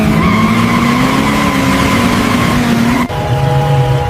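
Cartoon race cars speed off at the start of a mountain race, engines whining with rising pitch and tires squealing, loud and up close, with a sudden shift to a lower engine tone near the end.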